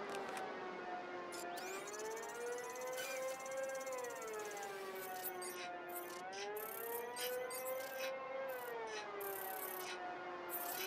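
In Batman Arkham Knight, a siren wails in long, slow rising and falling sweeps, a steady, soft drone with no voices over it.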